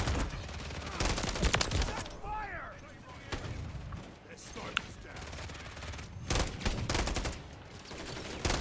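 Video game gunfire rattles in rapid bursts and volleys under a busy mix of game effects, with a person talking over parts of it and a few sharp louder shots standing out.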